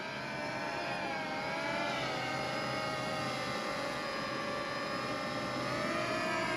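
A HolyStone HS175D quadcopter drone in flight gives off a steady, droning buzz of spinning rotors, with a whining pitch that shifts slightly. It holds continuously at moderate distance with no voices.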